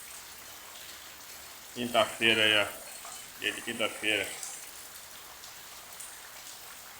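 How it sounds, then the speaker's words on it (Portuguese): Steady rain falls all afternoon outside a house in Nova Casa Verde, MS, giving an even hiss of drops on surfaces throughout while someone talks briefly over it. "Tá chovendo o dia todo."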